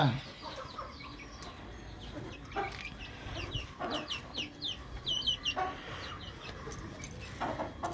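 Hens in a mesh coop cluck repeatedly at close range, with a run of short, irregular calls that grows busier toward the end.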